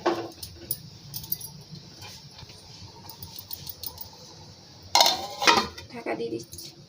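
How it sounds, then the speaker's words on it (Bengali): Metal clatter of a lid placed on a pot of fish curry, soft clinks and jangles early, then a louder burst of pan-and-lid clanking near the end. "ঢাকা দিয়ে দিচ্ছি"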